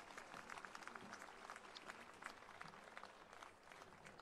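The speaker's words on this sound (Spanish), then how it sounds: "Agradecemos la participación de los profesores con este fuerte y cariñoso aplauso" Applause for the professors at a university graduation ceremony in Valparaíso, a steady, dense patter of many hands clapping at a distance, quiet throughout the whole stretch.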